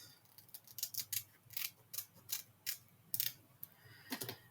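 Scissors snipping paper greenery for a handmade card, a series of short crisp cuts in an uneven rhythm, close up and fairly quiet, with no talking.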